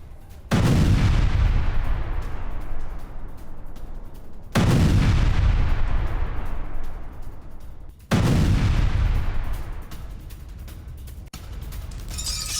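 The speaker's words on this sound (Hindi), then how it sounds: "दर्जनों मिलिट्री बिल्डिंग्स पर एयर स्ट्राइक की गई" Air strike explosions hitting military buildings in Lebanon, three heavy booming blasts spaced a few seconds apart, each with a long rumbling decay, plus a sharp crack near the end.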